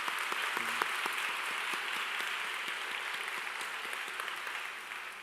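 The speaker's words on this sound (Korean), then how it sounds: "우리 사랑과 격려의 박수를 한번 보내도록 할까요?" Steady, moderate applause from a church congregation at a university worship service, even clapping that tapers slightly toward the end, with a short voice briefly over it near the start.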